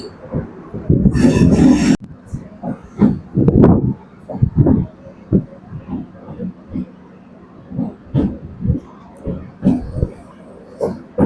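A Trichy to Villupuram MEMU passenger train rumbles in a short loud burst, then settles into irregular clunks and thumps, moderately close, with someone speaking over it.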